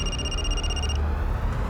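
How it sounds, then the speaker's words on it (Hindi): A telephone rings with a bright electronic trill for about a second, then cuts off, leaving a low background rumble. "कांस्टेबल घरात का फोन था"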